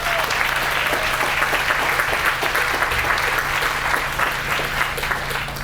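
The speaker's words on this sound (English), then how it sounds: "Please give those people a round of applause." An audience at a groundbreaking ceremony for a wellness center applauds steadily, a dense, sustained clapping throughout with no pauses.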